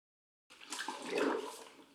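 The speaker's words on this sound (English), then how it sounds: "Place your mop into the water." Spin mop dipped into a water bucket, giving a soft, close sloshing splash that swells over about a second and a half after a brief silence.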